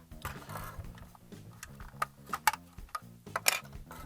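A small LEGO minifigure loose inside a Quinjet set rattles in quiet, irregular plastic clicks and ticks as the model is shaken and handled.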